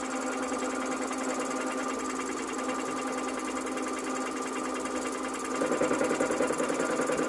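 A steady mechanical whir and hum of a bench metal lathe running continuously under power feed, with a rhythmic chattering that grows slightly louder toward the end.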